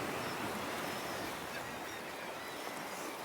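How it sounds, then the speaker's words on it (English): Sea waves splash against coastal rocks at St Abbs, a continuous broadband wash of surf that stays steady and fairly close throughout, with no voices. "the waves are kind of splashing up that side a little bit"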